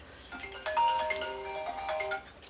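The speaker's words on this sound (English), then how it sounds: "Phone always rings." A phone's ringtone plays a bright sequence of melodic chimes for a couple of seconds, fairly loud and close, with no talking over it.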